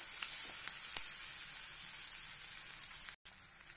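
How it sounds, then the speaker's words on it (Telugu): Bitter gourd and onion fry steadily in a pan, a continuous bright sizzle with a few sharp pops near the start and a brief dropout just before the end, with no speech. "చూడండి, ఇలా ఫ్రై అయ్యేంత వరకు ఉంచాలండి."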